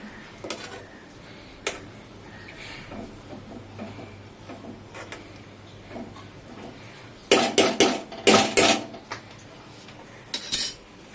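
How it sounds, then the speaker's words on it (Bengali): A metal spoon mixes a lightly sweetened coconut preparation in a cooking pot, giving scattered soft clinks and scrapes that build into a cluster of louder, rapid metallic knocks near the end. No one speaks. "এই চামচটা দিয়ে একটু মিশিয়ে দেবো"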